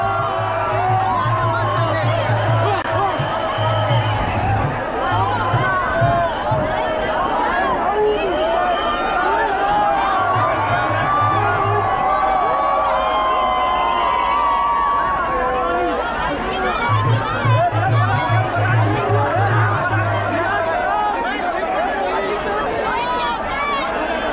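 A dense crowd packed along Marine Drive in Mumbai for the India T20 World Cup victory parade, a loud continuous roar of chatter and shouting close around, with some low droning underneath.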